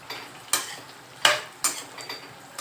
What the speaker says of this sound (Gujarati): હવે આપણે તેમાં ભીંડોને નાખી દઈશું। થોડી વાર સુધી આપણે ભીંડાને થોડો ફ્રાય કરી લઈશું।